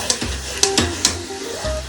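Mutton premarinated with ginger and spices stirred and mixed in a pan, giving close, loud scraping strokes every half second or so with a soft sizzle underneath.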